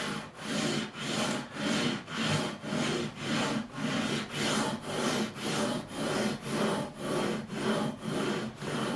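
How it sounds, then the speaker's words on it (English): Sandpaper rubbed back and forth over the frets of a Fender Strat neck to level them, a steady rhythmic scraping of about sixteen even strokes, close and alone. "There are some little places where it needs fret leveling, so we are going to give a fret level."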